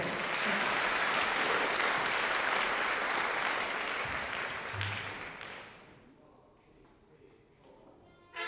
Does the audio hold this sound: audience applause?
yes